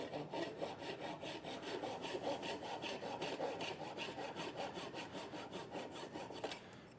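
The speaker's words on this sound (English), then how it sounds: "The nice thing about Japanese saws is that they're flush trimming saws." A Japanese flush-trimming pull saw cuts off a wooden spline on a mitered joint, giving a close, steady rasping rhythm of about three strokes per second that runs nearly seven seconds before stopping abruptly.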